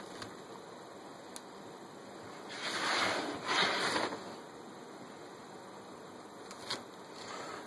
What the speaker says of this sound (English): So, oh, we got a boil over here.